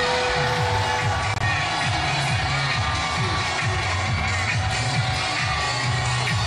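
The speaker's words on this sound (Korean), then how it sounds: "인천 함성 10초간 발사해 보겠습니다." A large crowd at an outdoor political rally in Incheon cheers and shouts continuously, a dense roar of many voices with rhythmic rises and falls, loud and close throughout.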